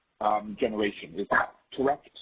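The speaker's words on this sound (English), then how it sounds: "And sorry about the dogs." Dogs bark in the background during a video call, the short barks mixed in with steady nearby talk from a man.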